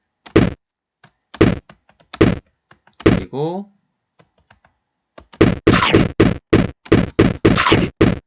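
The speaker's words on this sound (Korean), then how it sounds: "스페이스바를 누르면 이렇게 크런치 소리가 나면서 미사일이 발사됩니다." A crunch sound effect plays as a missile fires in a Scratch shooting game, one short warbling burst amid keyboard taps and spoken voice, followed by a rapid run of loud key clicks.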